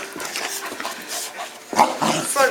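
Goldendoodle puppies at play give short, close yips and growly barks in quick irregular bursts, with scuffling between them.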